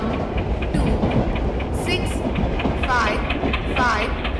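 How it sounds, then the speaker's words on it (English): Passenger express train arriving at a station platform in a train game, rumbling and clattering steadily with brake squeals, loud and close, while a voice announcement plays over the noise. "1 2 6 5 5 passenger express is arriving at platform number 3."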